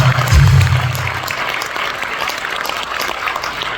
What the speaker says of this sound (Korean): 동의하시면 함께 박수로 맞아주시면 좋겠습니다.